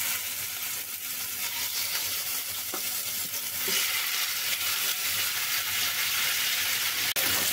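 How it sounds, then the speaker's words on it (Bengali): Chicken pieces fry in hot oil in a frying pan for a chicken tomato curry, giving a continuous, fairly quiet sizzle. One sharp click sounds near the end. "তেলটা গরম হয়ে গেছে, এখন আমি মাংসগুলো ভেজে নিব"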